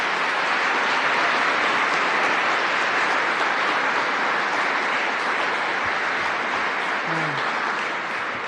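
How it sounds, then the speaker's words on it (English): Sustained, even applause from a large audience at a New York governor's education announcement, saluting Betty Rosa; a broad wall of clapping continues unbroken for the full stretch. "Let's give another round of applause to Betty Rosa."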